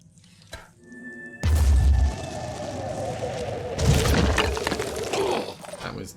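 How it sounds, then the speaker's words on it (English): An explosion in the video game Phoenix Point, during a Festering Skies mission, bursts in as a loud low boom with a crackling, shattering tail, followed by a second rumbling blast, over a low game background. "That was not a brilliant explosion."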